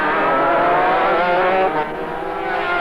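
A racing car from the 1984 New Zealand Lep International roars past at full throttle, close and loud, its engine note dipping slightly as it goes by, with another engine droning behind.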